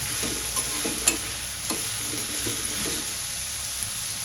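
Vegetables and green chillies are stir-fried in a pan with a constant close sizzle. Intermittent scraping and clacking of a spatula sound throughout.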